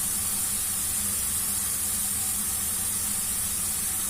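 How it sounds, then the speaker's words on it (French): Soy sauce hitting hot mushrooms that have released their juices in a pan, a steady close broadband hiss and sizzle lasting throughout, fairly loud and alone. "je vais mettre de la sauce soja pour assaisonner"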